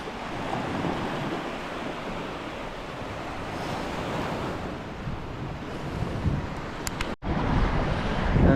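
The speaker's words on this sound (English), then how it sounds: "Here is the sea." Sea waves break and wash onto the shore at Larnaca, Cyprus, a continuous loud surf roar with wind buffeting the microphone and a brief dropout near the end.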